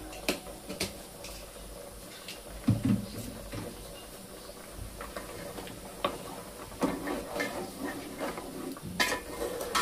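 Mutton paya fries in oil with coriander powder: a steady sizzle runs throughout, broken by ticking taps and scrapes of a spoon stirring against the pan close by.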